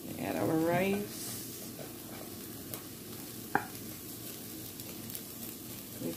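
Cooked rice drops into a hot pan beside steak for fried rice, giving a low steady sizzle with faint scraping and a sharp utensil tap midway; a voice speaks briefly at the start.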